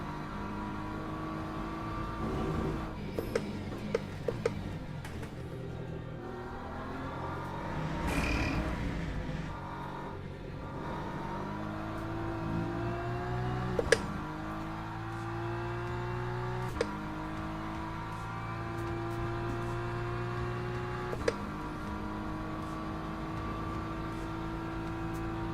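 Racing cars, including hypercars in a multi-class field, drive at Imola in a video game, their engines droning steadily throughout with shifting pitch as they rev and change gear, and a few sharp clicks and brief spikes scattered over the run.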